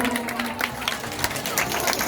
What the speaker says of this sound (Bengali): সবাই একটা জোরে করতালি দিবেন